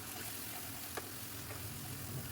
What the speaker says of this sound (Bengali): ভালোভাবে মশলাটা কষিয়ে নেবো